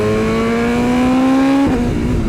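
Motorcycle fitted with a full exhaust pulls hard, a loud close engine note climbing steadily in pitch before a sudden drop at a gear change, then a rougher roar continues.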